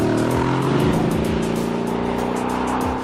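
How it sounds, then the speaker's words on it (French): A 2015 Mercedes GLE 63 AMG S Coupé with sport exhaust rumbles loudly and deeply up close, a continuous throaty drone with pulsing revs and no talking. "La bande-son grondante délivrée par l'échappement sport est tout aussi intimidante."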